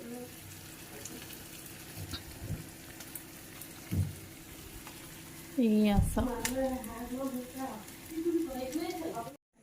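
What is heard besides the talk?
duck meat frying in a pan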